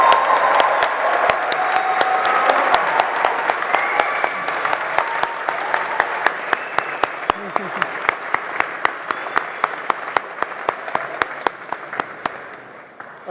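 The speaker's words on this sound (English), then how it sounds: "Please join me in applauding your 2022 Growth Mindset" Steady audience applause at a postgraduate graduation ceremony in London, many hands clapping at once, full at first and slowly thinning, with individual claps standing out near the end.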